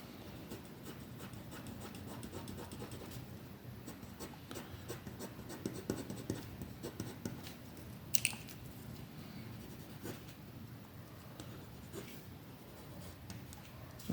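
Quiet hand sketching with pencil on paper: soft continuous scratching and rubbing strokes, faint and close, with one brief sharper tap partway through and no talking.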